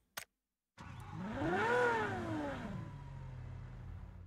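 A Lamborghini engine in a video game revs up hard, climbing in pitch to a loud peak before settling into a steady idle rumble, with a brief click beforehand.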